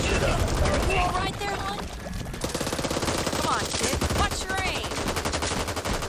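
Gunfire in the co-op zombie shooter Back 4 Blood, rapid automatic bursts crackling in quick succession, loud and close, broken by brief pauses, with players talking over the shooting.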